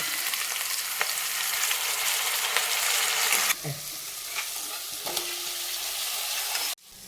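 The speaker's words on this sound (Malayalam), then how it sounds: "അപ്പൊ നമുക്ക് ഇഞ്ചി വെളുത്തുള്ളി പേസ്റ്റ് ഇട്ട് കൊടുക്കാം" Ginger garlic paste fries and is stirred in a pan, giving a dense, steady sizzle with scattered scraping clicks from the spoon, close and loud throughout before cutting off abruptly near the end.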